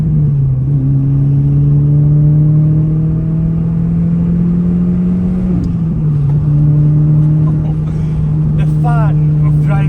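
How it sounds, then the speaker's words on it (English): Renault Clio RS manual hot hatchback driving on Namibian roads, its engine droning steadily and loudly at a held pitch, dipping briefly around a gear change midway before settling back, with faint voice underneath. "The fun of driving a manual hot hatchback like this one."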